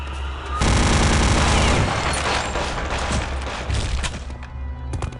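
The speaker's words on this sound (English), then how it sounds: "this venom gun is going to be way more effective than the flamethrower I thought previously" The Venom rotary gun in Return to Castle Wolfenstein fires a loud, sustained rapid burst of machine-gun fire, followed by scattered booms and impacts as the stream breaks off.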